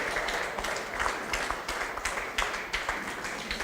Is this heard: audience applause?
yes